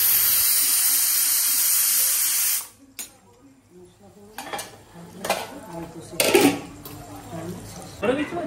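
Boiled potatoes fry in a pan while mutton cooks, opening with a loud, steady sizzling hiss that cuts off abruptly, followed by scattered utensil clatter and quieter sizzles amid occasional voices.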